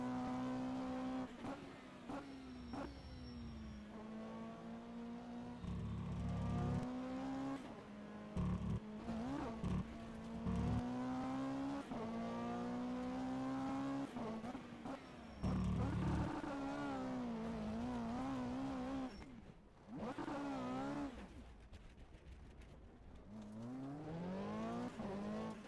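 A GT3 race car at Valencia in rFactor 2 howls through the gears, engine note rising and dropping with upshifts and braking, close and sustained over about twenty-five seconds, with brief tire squeal.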